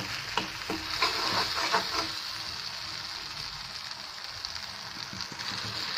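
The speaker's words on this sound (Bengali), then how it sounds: "মশলাগুলিকে আমি ভালো করে কষিয়ে নিচ্ছি" Ground spices and chili powder fry in oil in a pan for a goat brain curry, a soft continuous sizzle with a few quick stirring scrapes early on, then a steady hiss.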